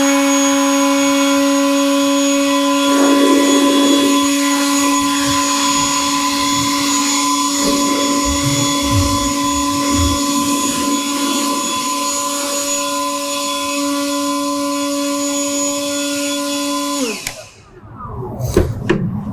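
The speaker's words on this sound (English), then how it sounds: "Now, to start the blower, we talked about this being at 60 decibels." A Stihl AI-series battery leaf blower runs steadily at close range with a smooth, even whine, then is switched off near the end, leaving a short patch of handling noise.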